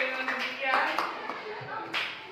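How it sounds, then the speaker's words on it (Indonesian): Brief applause for students rings out in a classroom, a short burst of claps mixed in with a person talking. "berikan aplaus dulu untuk mereka"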